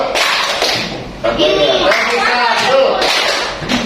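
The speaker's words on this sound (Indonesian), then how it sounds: "Tepuk satu. Tepuk satu." A classroom of children claps out a call-and-response rhythm, loud and close, in quick bursts of claps with a teacher's voice calling over them.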